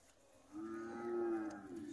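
A single long, low moo from cattle at a cattle fair in Capoeiras, Pernambuco, fairly close and steady for about a second, with no talking over it.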